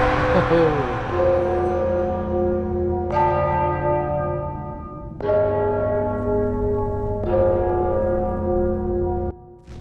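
Large church-style bells in the game Enderal toll loudly four times, each strike ringing out and slowly decaying into the next, with no voices over them.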